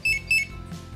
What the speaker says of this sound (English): It will beep twice to let you know that it successfully unlocked the vehicle.